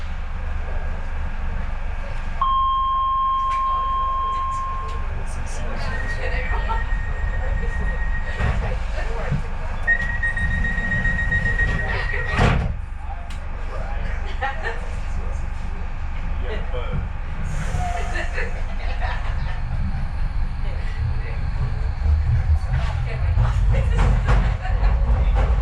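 A London DLR light rail train runs between stations, with a steady rolling rumble, rail clatter and rising and falling motor whine heard from inside the carriage, plus brief onboard announcements and voices.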